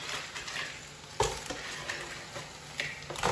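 Crab pieces drop into hot masala in a pan for a Kerala crab roast, sending up a close, steady sizzle with sharper bursts as pieces land and are stirred, with a faint clink of utensils.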